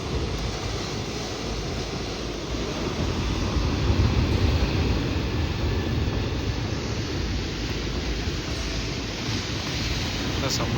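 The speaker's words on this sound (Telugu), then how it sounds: "సముద్రమే" Sea waves and surf at night roll in as a continuous broad rushing wash, steady and fairly loud, mixed with some wind.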